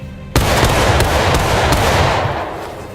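A front rank of soldiers fires a musket volley in a video game, a sudden loud crack of many shots together, with a few scattered later reports, then a long rolling echo that slowly fades.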